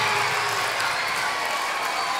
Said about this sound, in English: Can we give them another round of applause to the staff?